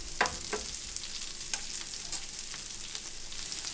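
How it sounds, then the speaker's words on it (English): Chorizo sizzles steadily in a pan, with a few sharp crackles and spatters standing out over the constant frying hiss, fairly close and without any voices. "You start off by just taking your chorizo and popping it into the pan"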